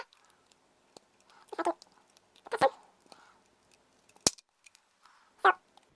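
Small cutting tool snipping unused components off a 12V LED strip, a few sharp isolated clicks and short crunchy cuts spaced irregularly, close and quiet in between.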